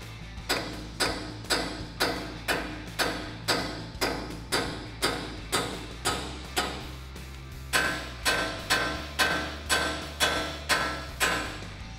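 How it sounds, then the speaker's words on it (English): A hammer strikes steel about fifteen times in a steady rhythm, roughly one blow per second, tapping a stubborn front ball joint loose on a Toyota Tacoma during a leveling kit install. Each sharp, ringing hit is close and loud, with no talk. "Go ahead and give it a tap here if this does not want to pop out with a hammer."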